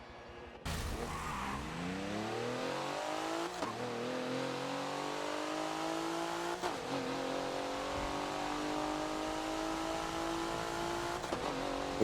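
Race car engine in the Forza video game on the Homestead super mini track, loud and continuous, revving up through rising gear sweeps with several quick shift breaks and faint tire noise, no talking.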